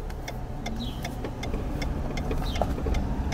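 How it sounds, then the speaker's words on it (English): A car rolls along Church Street in Ambridge, Pennsylvania, a steady low engine and road rumble running continuously at moderate level with a few faint ticks and clicks on top, no talking. "Driving on Church Street right now."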